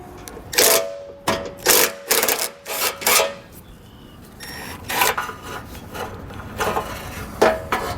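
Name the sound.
removing bumper bolts with a 14mm socket on a Subaru Outback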